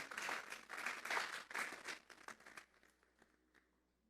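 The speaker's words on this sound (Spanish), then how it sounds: "Vamos a darle una ofrenda de palmas a Dios en esta mañana" A church congregation claps together in a burst of applause during a Sunday morning service. The clapping is dense and rhythmic for a couple of seconds, then thins out and fades.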